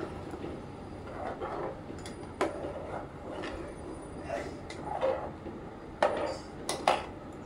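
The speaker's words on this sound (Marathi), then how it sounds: "आता खोबरं मी घालून घेते आणि आणखी 5 ते 10 मिनिटं मी शिजून घेते हे" Ground coconut goes into a pot of simmering Malvani mutton, with scattered soft clinks and taps of a utensil against the pot at an irregular pace, fairly quiet and close.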